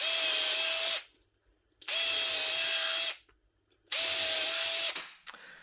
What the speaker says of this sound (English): Drill each hole.